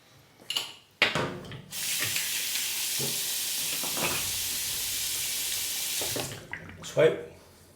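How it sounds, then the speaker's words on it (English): Running tap water splashes over a face rinsed at a sink during a travel razor shave, a steady rushing stream lasting several seconds with a few short splashes and knocks before and after. "Quick rinse of the face."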